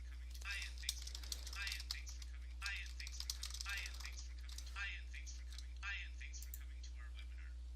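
Keystrokes on a computer keyboard while entering caption text, soft quick clicks in uneven bursts, fairly faint and close, over a steady low electrical hum.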